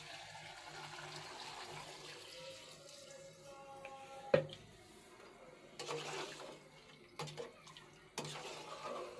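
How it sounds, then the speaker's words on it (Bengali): Broth poured into a pangas fish curry with cauliflower, beans and radish in a pan, a low steady watery pour with a few sharp clinks and splashes, quiet and close, no talk. "এখন ঝোল দিয়ে দিব।"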